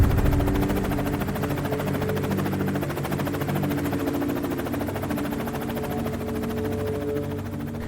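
Helicopter idling or running on the ground at Savage Cove, a loud steady rotor chop and turbine drone that holds evenly throughout, close by with no talk.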